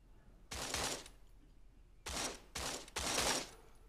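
Automatic weapon fire in the video game Creative Destruction: three loud, dense bursts of rapid shots, one short burst followed by two more in quick succession, with no talking.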